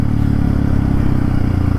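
A Yamaha WR155 motorcycle engine idles close by, a loud steady low rumble with a fine rapid putter throughout and no voices.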